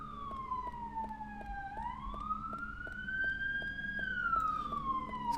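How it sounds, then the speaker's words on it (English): Police sirens in the PC video game Deadly Premonition: a loud wailing siren that rises and falls in a slow sweep, with a second siren layered on top and a faint rhythmic ticking beneath. "Excuse the sirens."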